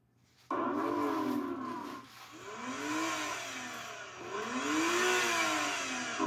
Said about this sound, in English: I'm going to rev up this V6.